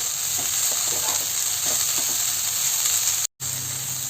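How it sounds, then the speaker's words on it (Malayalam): Chopped spinach is stirred in a hot pan for cheera dal thoran, giving a steady close sizzle and frying hiss with soft scraping stirs, cut by a brief silent gap near the end. "അതുകൂടി ചേർത്തിട്ട് നമുക്കിത് നന്നായിട്ട് ഇളക്കി മിക്സ് ചെയ്ത് കൊടുക്കാം."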